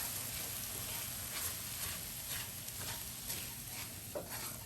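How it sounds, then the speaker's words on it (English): Breadcrumbs stirred as they fry in oil in a pan, giving a steady soft sizzle with scraping stir strokes at irregular intervals, close and fairly quiet. "we're just gonna now keep stirring until it like really crisps back up"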